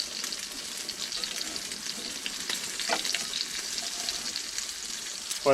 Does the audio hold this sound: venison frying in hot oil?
yes